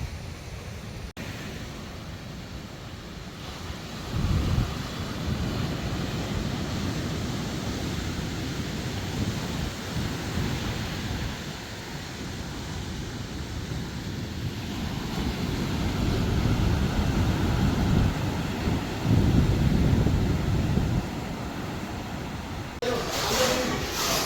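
Waves wash onto a beach while wind buffets the microphone in a continuous roar, with surges of surf swelling and fading. Faint voices are mixed into the noise.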